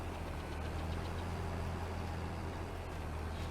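Steady low tractor engine idling in Farming Simulator 22, a constant deep rumble with faint mechanical knocking, close and continuous without talk.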